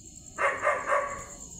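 Dogs in a forest at evening give a short burst of three close barks over a quiet, hissing background.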